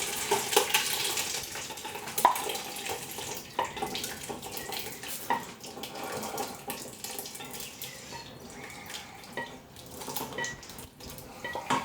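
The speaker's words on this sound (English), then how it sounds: "Now we're going to drain the gravy into this sieve along with everything else." Liquid beef pepper curry gravy pours and splashes into a sieve in a kitchen, a continuous watery rush with small clinks and spatters, moderately quiet and close.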